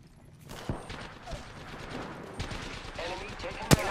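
Gunfire in Apex Legends, a run of separate sharp shots and bursts at close range with a loud crack near the end, under a voice speaking.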